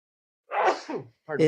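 A single short, breathy sneeze bursts out at close range, and a voice starts talking right after it.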